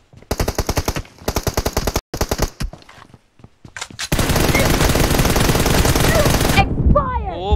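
Video game gunfire: several rapid bursts of automatic fire with short gaps, then a long sustained loud stream of shots, with a brief voice at the end.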